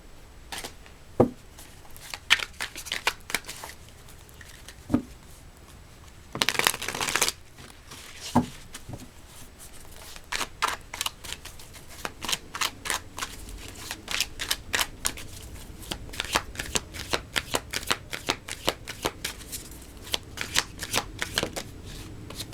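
Tarot cards are shuffled close by for a long stretch, with crisp riffling bursts and rapid slapping, flicking clicks in uneven flurries and no speech.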